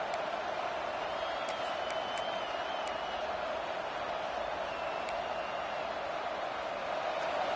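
A steady, distant stadium crowd roar swells in a college football video game as fans rally behind the defense on a big third down, with faint whistles and whoops scattered through the constant wash.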